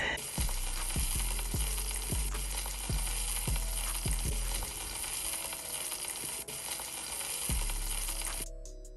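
A steak sears in a hot pan with a loud, steady sizzle, broken by several low thuds as the meat is turned and set back down.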